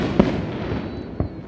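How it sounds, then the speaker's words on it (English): Backyard fireworks bursting outdoors at night, sharp booms at the start and again near the end with crackling and rumble trailing between them, loud and close. "We got our own fireworks show now."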